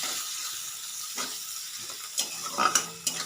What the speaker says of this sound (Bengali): দু তিন মিনিট ভাজা ভাজা করে নিতে হবে